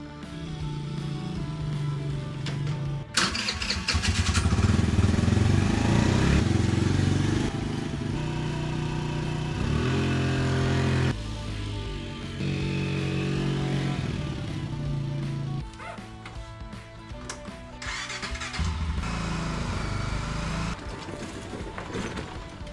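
A lawn mower cuts backyard grass on a South Carolina homestead, its engine droning loudly and steadily throughout as the pitch shifts with load, with no talking.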